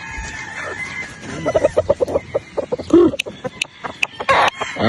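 Roosters, a flock of gamefowl, clucking in a run of short repeated calls with a crow breaking in, close and fairly loud with no talk over them.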